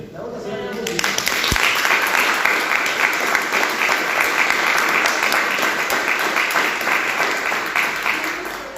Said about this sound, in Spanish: cerramos con un aplauso si quieren